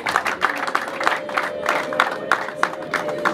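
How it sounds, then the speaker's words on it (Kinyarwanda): Guests at a Rwandan family betrothal ceremony clap in a steady rhythm, with sharp, evenly spaced claps over a low crowd murmur. "murakoze cyane mumwongera amashyi umuvandimwe wa Fasi"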